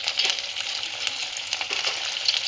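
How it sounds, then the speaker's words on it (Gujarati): Sabudana vada dropped into hot oil, frying with a steady bright crackle and hiss that holds evenly throughout, close up with no voices. "હવે તેલ ગરમ થઈ ગયું છે હવે આપણે આ એક એક તેલમાં છોડીશું"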